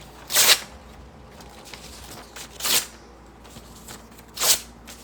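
A single ordinary sheet of plain paper torn by hand, three separate quick bright rips spaced a second or two apart, close and fairly loud with quiet between them.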